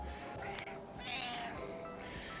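A domestic cat meows a couple of short, rising-and-falling times, fairly close and clear, with no talking over it.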